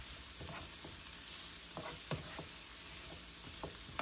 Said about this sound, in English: I'm gonna grab something to stir up my vegetables